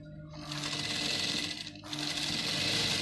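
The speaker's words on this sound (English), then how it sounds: "And I will top stitch." A sewing machine top stitches a stretchy, unlined gown, its steady close-up motor hum running continuously with one brief dip partway through.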